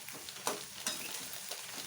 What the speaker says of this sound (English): once it fries just translucent, we can put in the tomatoes